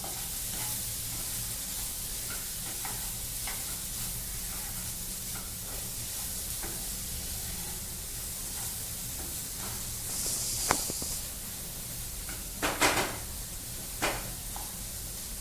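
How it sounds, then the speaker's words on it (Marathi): Onion, tomato and chili fry in a pan for a quick eggplant bharit, giving a faint steady sizzle and hiss with occasional soft stirring scrapes and a few clinks near the end. "आता टमाटो, मिरची टाकत आहे मी। तर हे मिक्स करायचं।"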